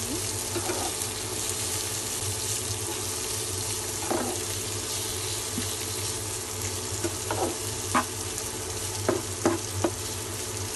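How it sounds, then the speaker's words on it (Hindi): Shrimps sauté in a pan with red, green and yellow bell peppers for ramen noodles, a continuous close sizzle with scattered stirring knocks and scrapes, no talk. "अब मैं इसके अंदर ऐड करूँगी red, green and yellow bell pepper. इसको मैं 1 मिनट के लिए सौते कर लूँगी।"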